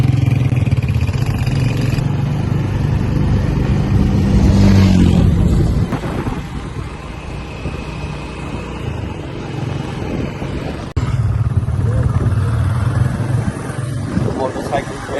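A motorcycle engine runs steadily as the bike rides through a village near Faisalabad in summer heat, its drone loud and constant with a shift in tone midway, wind noise and voices talking over it.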